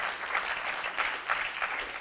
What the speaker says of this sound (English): she mentions revolution and gets applause